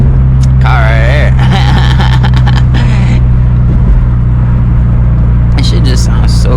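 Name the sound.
Genesis Coupe 2.0T with Tomei titanium exhaust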